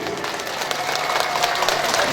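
Women in a mosque congregation clap together during an Isra Mi'raj sermon, a dense, loud burst of crowd clapping that swells slightly and continues throughout.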